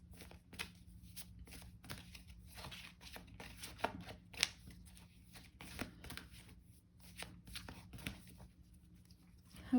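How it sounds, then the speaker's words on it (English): A deck of angel oracle cards is shuffled by hand for a tarot reading, giving a run of soft, close riffling and sliding card sounds with light slaps, steady over several seconds with no talk. "Just do a quick shuffle."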